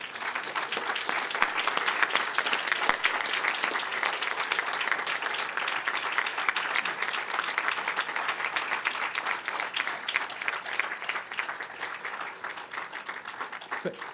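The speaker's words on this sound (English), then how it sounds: "graduates, would you please applaud your family and friends?" At a 2012 KGI commencement ceremony, standing graduates applaud their family and friends. A dense, sustained wash of many hands clapping fills the hall at an even level throughout.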